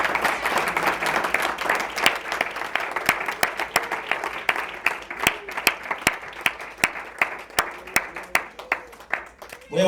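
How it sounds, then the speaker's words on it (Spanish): A church congregation applauds during a sermon. A dense wash of clapping first fades into a few people clapping in a slowing, sparse rhythm of distinct close claps over roughly ten seconds, with faint murmuring underneath. "Denle un aplauso al Señor, hermano."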